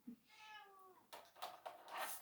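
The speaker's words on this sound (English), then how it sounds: "If you heard that meow, that was Luna." A pet cat gives a single clear, drawn-out meow close by, followed by rustling and soft background noise.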